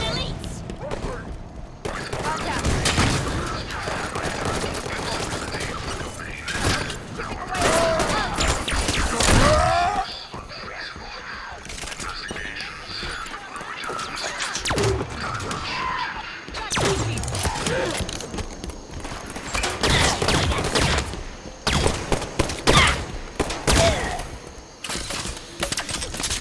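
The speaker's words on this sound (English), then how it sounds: "Human shooting at elites!" Gunfire in Halo 5: Guardians, with human forces shooting at Covenant elites, heard as dense, continuous bursts of shots and impacts filling the whole stretch, with game voices mixed in.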